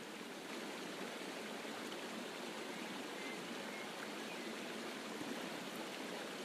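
A waterfall pours in a steady, dense rush of broadband water noise with no breaks, moderately loud and unchanging from start to finish.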